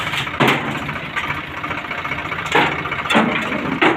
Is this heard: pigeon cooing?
no